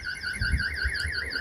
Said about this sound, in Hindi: इसके अंदर सिक्योरिटी अलार्म सिस्टम बेसिकली लगा हुआ है, जैसे आम स्कूटीज़ के अंदर होता है।